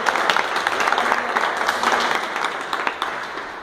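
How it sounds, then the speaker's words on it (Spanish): Theatre audience at a tech presentation bursts into applause, individual claps audible within a lively, uneven patter that stays fairly close and continues throughout. "Así que un aplauso para ustedes."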